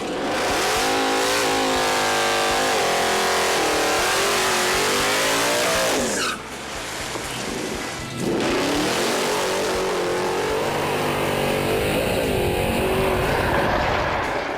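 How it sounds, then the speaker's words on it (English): A blown Plymouth Duster drag car roars down a 1/8 mile track, its engine loud and sustained at full throttle with rising revs. There is a brief dip around a gear change before it pulls hard again to the end. "But before we run the dart down the track, Ted's gonna give this Duster one last hoorah."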